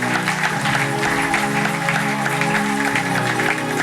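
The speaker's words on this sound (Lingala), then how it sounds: "Nous acclamons pour la parole du Seigneur" A congregation applauds in church, a continuous, full clapping that fills the space for several seconds, with a low sustained tone and faint voices mixed underneath.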